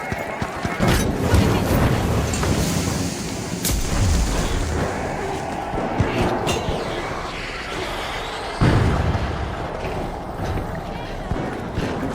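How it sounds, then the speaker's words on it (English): A frag grenade blows up in the shooter game The Finals, with booming blasts amid gunfire and clinks in a busy match while voices talk over the action. "Tossing a frag!"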